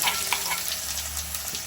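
Garlic paste and green garlic hiss and crackle in hot oil during an Indian tempering with dry red chilies and cumin, a steady close sizzle under light stirring with no talk.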